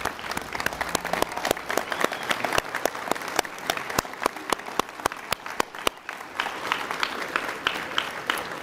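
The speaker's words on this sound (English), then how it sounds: "let us rise in applause to honor the staff of EDCSD" Graduation crowd standing to applaud the school staff, a thick bed of applause cut through by sharp, regular group claps falling in a steady beat for the full stretch.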